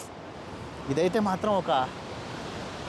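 A waterfall on the Zimbabwe–Zambia border sends up a steady, broad roar of pounding water and wind that runs through the whole stretch, while someone speaks briefly over it in the middle.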